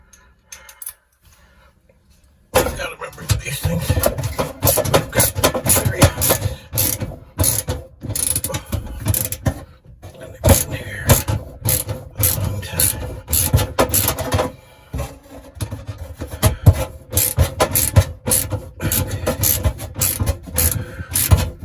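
A ratchet clicks in rapid bursts while loosening a stove element, with sharp mechanical ratcheting close up, short pauses between runs of strokes, and no talk.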